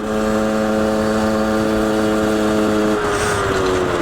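A Rieju MRT Pro SM motorcycle fitted with a 50, 70 or 80 cc kit is ridden with a steady, buzzing two-stroke engine note. The pitch holds level, then shifts slightly as the revs change toward the end.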